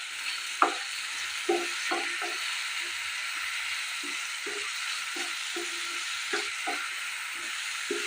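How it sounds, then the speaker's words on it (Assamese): Tomatoes fry in a covered pan for a paneer dish, a steady hiss of sizzling under repeated soft scraping strokes of a spoon stirring, close and moderately loud, with no talking. "এতিয়া ঢাকনিৰে ঢাকি এইদৰে মাজে মাজে লৰাই থাকিম"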